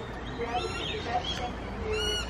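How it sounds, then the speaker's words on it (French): Birds calling in Australian bushland near koalas, a dense wash of chirps and tweets with a couple of clearer calls, steady and moderately loud throughout with a voice briefly underneath. "Comment ils font avec tous ces bruits d'oiseaux là?"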